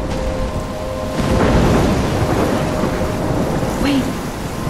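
Thunderstorm in the video game Life is Strange: loud dense rain and rumbling thunder filling the whole stretch, with a swell of rolling thunder partway through and no voices.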